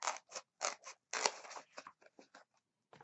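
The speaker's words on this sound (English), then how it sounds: "And I am going to cut this" Scissors cut through material for a small stick pin holder craft: a quick series of crisp, close snips in an uneven rhythm, quiet and isolated with short pauses between cuts.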